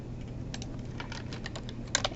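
Rapid keystrokes on a computer keyboard tap out a school name in a quick, uneven patter of close, light clicks, ending with a slightly sharper press, with no talking.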